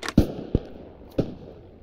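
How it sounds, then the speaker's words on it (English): Incoming artillery explosions on a World War I battlefield around a windmill in Beyond The Wire: three short, sharp impacts at uneven intervals, moderately loud and somewhat distant, over a low background. "Artillery's incoming on the windmill, boys, stay back."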